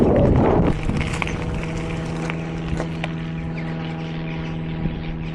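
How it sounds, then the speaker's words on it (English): A propeller plane flies over a reservoir near a gorge, giving a steady droning hum with a strong low tone that stays fairly loud and even, with a louder rush at the start and faint background noise. "There's a propeller plane there."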